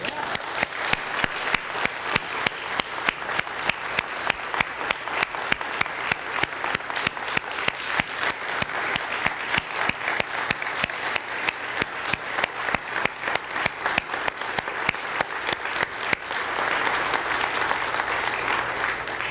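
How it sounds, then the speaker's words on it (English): Sustained applause from a church congregation at a Sunday service in San Diego, honoring the prayer partners; dense, steady clapping fills the room throughout, swelling slightly near the end. "acknowledge them with your love and a round of applause"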